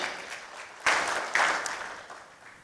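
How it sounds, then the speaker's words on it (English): An audience breaks into applause for an organizing committee, with clapping swelling in two surges, then fading gradually. "A big round of applause to the entire committee for organizing this"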